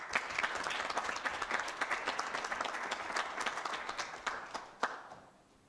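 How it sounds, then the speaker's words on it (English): An audience at a student debate applauds Mr. Cromie, with a moderate room of clapping that stays steady, then thins out with a few last claps. "give a round of hand for Mr. Cromie"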